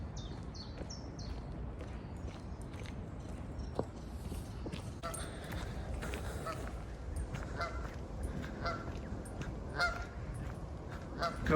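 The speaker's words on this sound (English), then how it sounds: "a little family of geese." A small family of geese honks repeatedly beside a canal, quiet, scattered calls over soft outdoor background noise, with faint footsteps and occasional distant voices.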